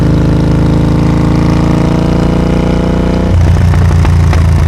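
Triumph Speed Twin 1200 RS motorcycle with a full-system exhaust idling close by, a steady loud parallel-twin burble that drops to a deeper, lumpier throb partway through, with no talk.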